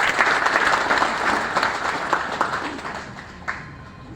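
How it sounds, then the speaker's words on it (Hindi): An audience applauds a teacher, sustained clapping from a fairly large crowd that swells and then fades slightly toward the end. "एक बार सर के लिए जोरदार ताली बजाएं।"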